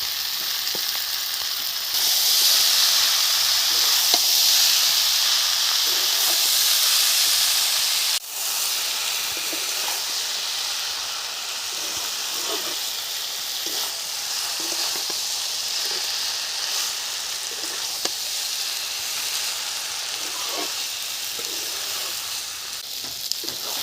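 Banana flower frying in a pan for a village-style dish, giving a steady, close sizzle with hiss and occasional stirring clicks, louder in the first few seconds and then settling into an even crackle with no talk.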